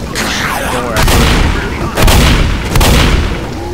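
Gunfire in the video game Left 4 Dead, loud and close: a dense, rumbling barrage with several heavy, booming shots punching through every second or so, filling the whole stretch without pause.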